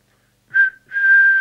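Someone whistles a clear, steady tone into the microphone of a Midland 77-104D CB radio during a transmit test. A short note is followed by a brief gap and then a longer held note, loud and close.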